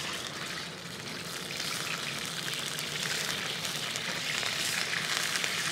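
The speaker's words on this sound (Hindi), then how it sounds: "हमने फ़िश को डीप फ्राई करना है।" Fish pieces deep fry in a karahi of hot oil, producing a dense, even bubbling sizzle that holds steady and close throughout, with no voices.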